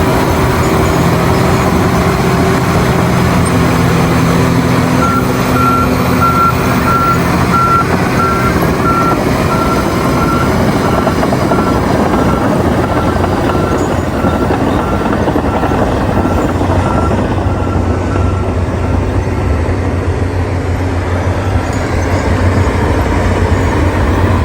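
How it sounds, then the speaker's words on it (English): A Caterpillar D9T bulldozer pushes a large volume of earth with its blade, its heavy diesel engine droning loud and close throughout, with a steady series of reversing beeps sounding for a stretch in the middle. "The blade makes contact with the soil, and a large volume of earth starts moving forward in a controlled wave."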